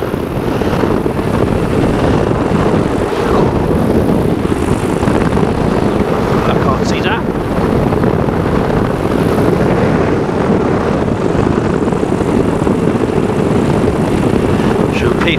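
Light aircraft engine on an SSDR flight, a steady loud drone heard from inside the cockpit throughout, with a faint voice partly buried underneath.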